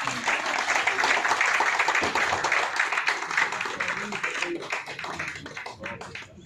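Audience clapping at a press conference marking Narad Muni Jayanti in Moradabad: dense, steady applause from a room of people that holds strong for several seconds, then thins into scattered claps.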